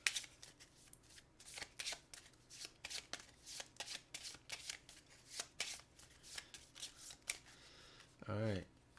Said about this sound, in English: Let's shuffle this up first.